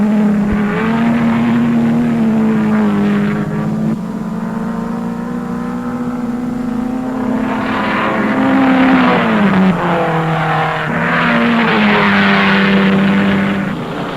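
Race cars at the 1957 Sebring 12 Hours, led by a Jaguar, rumbling through the hairpin: a loud, sustained engine drone with pitch rising and falling as the pack accelerates out of the turn.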